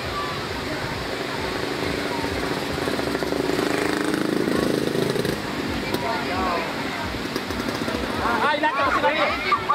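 Fiber racing boat engine running outdoors on water, a loud continuous rough drone with shifting pitch, mixed with crowd babble and splashing surf throughout.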